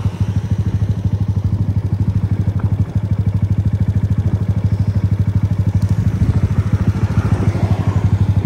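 A Honda CB 190 R motorcycle engine idles close up at night on a street: a loud, steady, rapid thumping pulse that holds an even rhythm throughout, with no talk over it.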